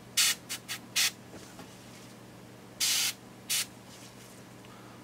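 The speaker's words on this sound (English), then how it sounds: "This is careful airbrush work." An airbrush sprays paint onto miniature Death Guard armor being painted Heresy white, giving several short hissing bursts, one longer spray and a few brief puffs, close and clear over a low steady hum.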